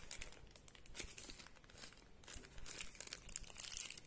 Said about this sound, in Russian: Тугой пакет какой-то. Зачем такие тугие пакеты делать